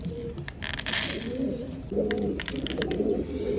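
Pigeons cooing softly at close range, their low throaty calls repeating in short bursts over faint rustling and occasional chirps from other birds.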